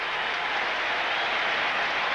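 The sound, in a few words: baseball stadium crowd applauding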